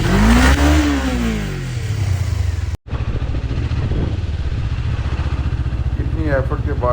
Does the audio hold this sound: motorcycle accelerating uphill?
yes